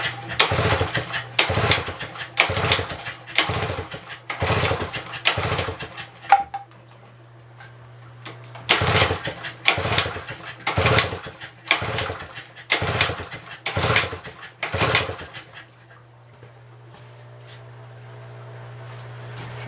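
A 1964 Eska outboard boat motor, long stored, is pull-started repeatedly: two bursts of about five sharp rhythmic cranking pulls separated by a pause, a low hum running beneath, and no start.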